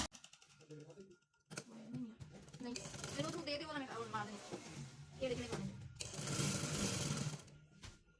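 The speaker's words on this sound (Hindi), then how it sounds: "इसके साथ साथ हमने सिलाई लगा देनी है" A sewing machine stitches lace onto trouser fabric in short bursts, mixed with someone speaking over it, with a longer run of stitching near the end.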